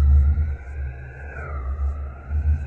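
Music software with an echo delay effect: steady electronic tones with a sliding pitch over a deep low hum, the notes seeming to repeat faintly as echoes at a moderate level.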